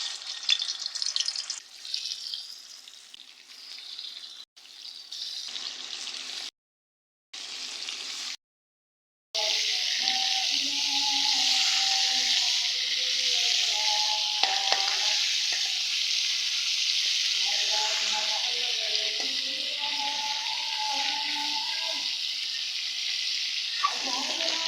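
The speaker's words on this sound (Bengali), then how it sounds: "এখন আমি মাছগুলো ভেজে নেব" Turmeric- and chili-coated fish frying in hot oil, a loud steady sizzle that holds continuously after a few brief cuts near the start, with faint clatter beneath.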